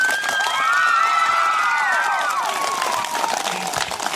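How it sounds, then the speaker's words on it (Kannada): Children at a school event and the crowd around them break into loud, lively applause mixed with excited high voices and cheering, sustained and close for a few seconds before easing slightly. "ನಮ್ಮ ಮಕ್ಕಳ ಪರವಾಗಿ ಅಂತೂ ಜೋರಾದ ಚಪ್ಪಾಳೆ ಅವರು"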